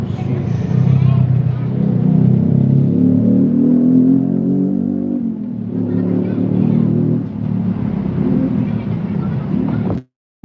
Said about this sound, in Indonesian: Oh, truk panjang ya.